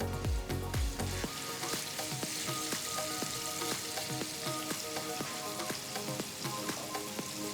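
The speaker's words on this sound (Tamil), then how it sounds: "அடுத்து பேனில் ஒரு 2 டேபிள் ஸ்பூன் அளவுக்கு எண்ணெயை ஊற்றி எண்ணெய் சூடானதும் இதில் 2 மீடியம் சைஸ் வெங்காயத்தை நல்ல மெலிசாக நறுக்கி சேர்க்குறேன்." Two medium onions, thinly sliced, frying in about two tablespoons of hot oil in a pan for a mutton korma, giving a steady close sizzle with scattered crackles after an initial louder burst, without talk.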